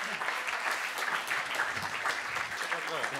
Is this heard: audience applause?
yes